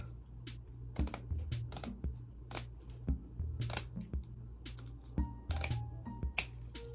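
Scissors cutting a piece of plastic mesh for a plant moss pole, a run of sharp clicking snips in an uneven rhythm, close and crisp in a quiet room with no talking.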